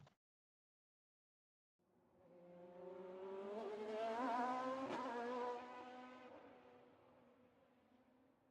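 A touring car in a racing sim laps the Algarve circuit, its engine note rising from silence into a loud, harmonic roar as it approaches and passes, peaking midway then fading as it pulls away, with no voices.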